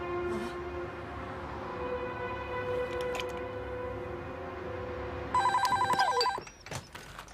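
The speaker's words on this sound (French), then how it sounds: "Pourquoi c'est toujours moi qui dois répondre au téléphone?" Telephone ringing indoors in a French police drama, steady tonal rings over a low hum, then a louder, sharper bell burst near the end followed by clicks.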